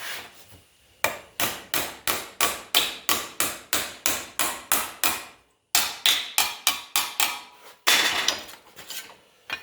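Rapid, evenly spaced hammer blows ring on rusty sheet metal being bent into a template, loud and close, with a short pause midway and a final flurry.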